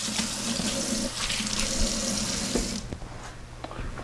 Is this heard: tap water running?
yes